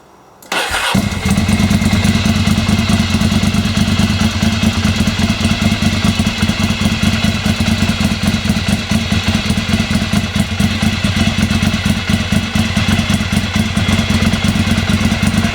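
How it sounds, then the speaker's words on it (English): A Ducati 696 motorcycle engine cranks and fires up after a short moment, then settles into a loud, steady, clattering idle that continues throughout. "we're just going to put the ignition on and start the bike up"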